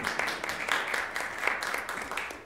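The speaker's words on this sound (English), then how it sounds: "An applause." Moderate applause from a seminar audience at a symposium, a steady patter of many hands for a couple of seconds, fairly distant and even.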